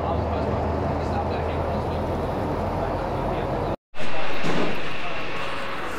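Steady low rumble of a bus engine while riding an airport shuttle toward the terminal, continuous road and engine drone with a brief dropout, voices talking faintly over it.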